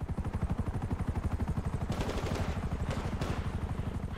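Combat machine gun firing in the GTA V video game, a rapid sustained burst of gunfire with dense clattering shots, a helicopter rotor thumping underneath and sharp louder blasts partway through.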